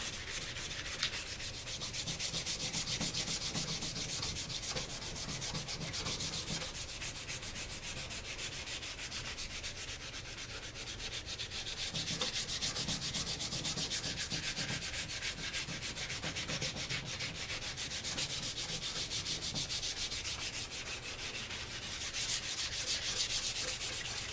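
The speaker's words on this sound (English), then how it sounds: "Now that we've got it light sanded" Sandpaper rubs lightly over a wooden gun stock in a steady, continuous scratchy hiss, close up and alone for the whole stretch.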